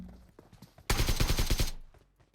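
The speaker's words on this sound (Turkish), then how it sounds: "arkamda bir ses. Bir çatışma sesi." Automatic gunfire from a firefight in the mobile game PUBG Mobile: a loud rapid burst of shots lasting under a second, preceded by faint footsteps and quieter game sounds.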